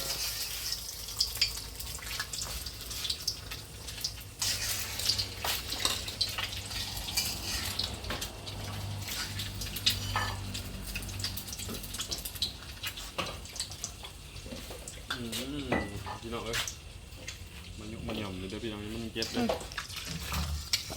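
Pork and holy basil stir-fry in a pan with a steady, hissing sizzle that persists throughout, while people talk over it.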